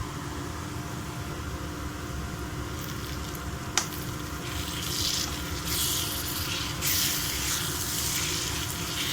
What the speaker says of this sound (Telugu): ఒక 2 మినిట్స్ అల్లం పచ్చి వాసన పోయే వరకు ఫ్రై చేసుకుందామండి